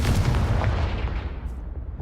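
A Confringo blast spell explodes in Hogwarts Legacy, a single loud booming burst with a rumbling low end that decays over about two seconds.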